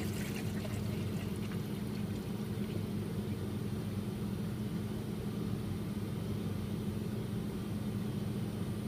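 A urine sample being poured from a collection container into a measuring container: a steady, continuous pour heard close up and alone, holding at an even level throughout.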